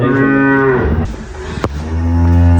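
A Holstein dairy cow moos loudly nearby, a long resonant bellow, then after a short pause gives another deep, sustained moo.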